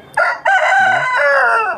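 An Aseel rooster at the Balrampur poultry market in West Bengal lets out one loud, close crow, a sharp rising start that holds into a long, strained call and fades at the end, with no talk.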